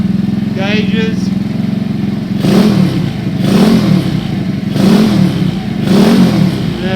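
Supercharged nitrous postie motorbike engine running while riding, a loud steady drone with rhythmic surges and swells, a voice talking over it.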